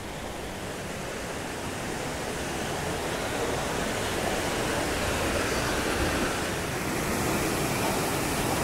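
A jungle waterfall at a sacred site in Ecuador roars in a dense, unbroken rush of falling water, loud and close, with no voices over it.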